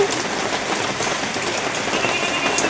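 Heavy rain pours down steadily in Palamu, a dense, even hiss of drops hitting surfaces with no pauses and no voices.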